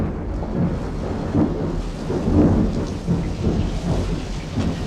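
Steady rain pours down with deep rolls of thunder rumbling through, swelling and fading in waves; no voices.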